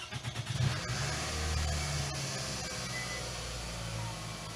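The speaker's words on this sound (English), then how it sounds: "I'm going to turn on the engine now." A Toyota Alphard's engine runs steadily after starting, a low rumbling hum that fills the clip at moderate loudness with a few soft bumps at the start and no voices.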